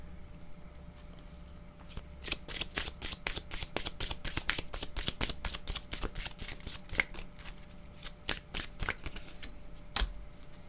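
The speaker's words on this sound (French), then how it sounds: "Donnez-moi une minute, je vais ajouter une autre carte." Playing cards are shuffled and drawn from a deck in a long run of crisp, rapid riffling snaps and flicks, close and fairly quiet, with a few slower card slaps toward the end and no talking.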